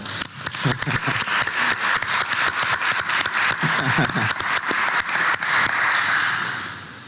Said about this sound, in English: could we please give him a very warm round of applause for welcome?